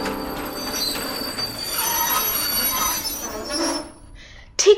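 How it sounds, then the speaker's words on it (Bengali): A train pulls into a small rural station, its wheels squealing loudly over a rumbling, clattering roll before the noise drops away and a brief sharp sound closes it. "ঠিক 10:30 নাগাদ ট্রেন এসে দাঁড়ালো চণ্ডীপুর স্টেশনে"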